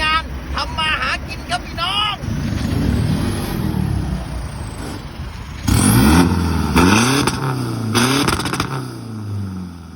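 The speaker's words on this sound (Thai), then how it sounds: "ไอ้แซมรถซิ่งมาแล้ว" A modified 2021 Isuzu pickup with a 3.0-litre engine roars close by, its pitch climbing and falling in repeated revs that swell louder in the second half, with voices mixed in early on.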